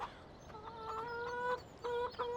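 Chickens cluck in Farming Simulator 2017, a farm video game, with a few close, repeated tonal clucks in short bursts over a steady low background hum.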